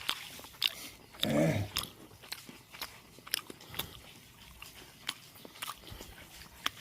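Crunchy bites and wet chewing of a freshly harvested walnut still in its green skin, close to the ear, with a louder crunch early on followed by scattered small clicks and chews.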